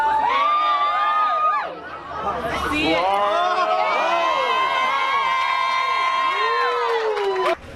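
At a Sunbelt Ag Expo 2017 cow-milking contest, a lively crowd cheers strongly for Florida with shrill whoops, shouts and children's yells. The cheering is close and sustained, and a voice briefly speaks through it.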